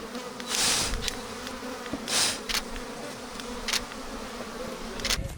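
Honey bees kept in a hollow tree stump hive in a Turkish village buzz steadily and loudly up close, with several sharper swells as individual bees fly near, and no talk.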